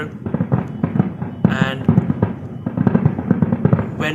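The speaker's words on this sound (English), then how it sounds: "when we enjoy the marvelous fireworks going on" Fireworks burst at Bahrain National Day celebrations in a rapid series of sharp pops and crackles, loud and fairly close, with a voice speaking briefly among the bangs.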